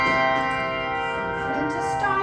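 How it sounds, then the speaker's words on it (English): Several handbells rung together as a sustained chord, their pure tones layered and ringing steadily at close range, with a slight waver near the end and no talk. "One of the main things we do is just to ring the bell"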